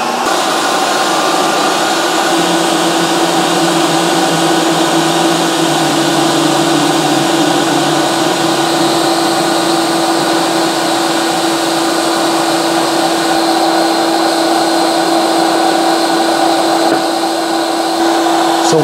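A Ninja CREAMi Deluxe ice cream maker churns a slushie on its spin cycle. Its motor gives a loud, even whir with a steady high whine that holds unchanged throughout, with no voices.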